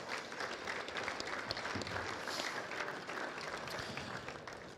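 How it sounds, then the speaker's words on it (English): Steady applause from a large crowd in a big echoing high school gym at a boys basketball district game, many hands clapping continuously at moderate loudness, with no talking. "How about a nice round of applause for all of them?"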